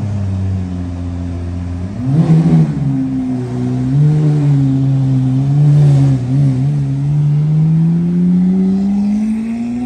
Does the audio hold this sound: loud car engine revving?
yes